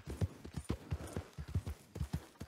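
A horse's hooves clip-clopping in the Red Dead Redemption 2 video game, a quick, even gait of close, soft thuds at a walking or trotting pace with no talk over it.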